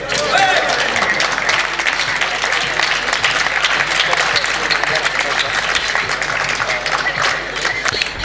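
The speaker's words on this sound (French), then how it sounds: "On entend les applaudissements" Applause breaks out at a neighbouring table during a blackball billiard tournament final, as a crowd claps loudly and continuously, with voices mixed in.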